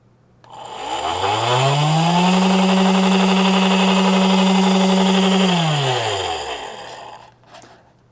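Small DC motor driven through an H-bridge motor driver under Arduino control spins up, holds a loud, steady, high whine for a few seconds, then slows and stops, close and alone.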